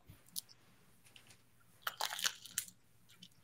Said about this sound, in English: Oh, listen to that crunch. Somebody made a good bagel this morning.